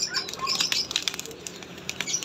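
An old pigeon flaps its wings in quick, close bursts of fluttering with soft patters, fairly faint overall and with no voices.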